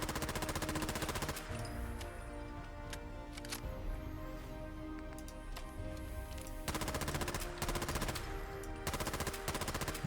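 A short rifle with no stock, added by a Fallout 4 mod, fires rapid automatic bursts that come loud and close in quick rattling strings, with brief pauses between volleys.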